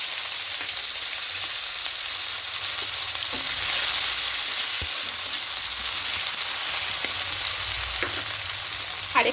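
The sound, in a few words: chopped onion frying in a wok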